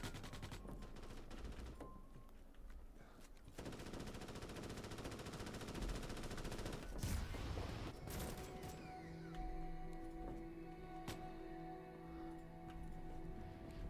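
Armed bugs firing in a shooter video game, with rapid bursts of automatic gunfire and sharp cracks over a constant busy game background, fairly quiet and without speech.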